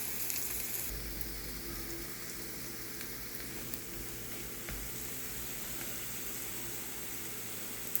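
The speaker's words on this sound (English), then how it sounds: "As you see, it's frying up just good." Tortilla chips fry in oil for chilaquiles, giving a soft, steady sizzle that holds for the whole stretch, fairly faint and even with only an occasional small pop.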